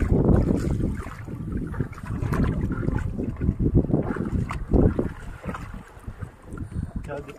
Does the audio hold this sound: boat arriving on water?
yes